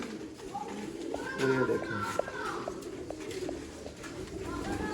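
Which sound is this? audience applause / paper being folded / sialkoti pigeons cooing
sialkoti pigeons cooing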